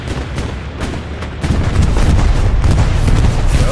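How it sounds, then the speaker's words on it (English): Heavy rumbling explosions from a bombing run in the Hell Let Loose World War II shooter, a dense continuous barrage that grows louder and more intense partway through, booming close by. "Bombing run."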